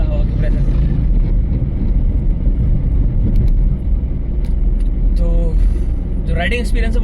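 A Hyundai i10 car on the move, with loud, steady wind rushing over the bonnet and a low road and engine rumble throughout, while someone talks over it.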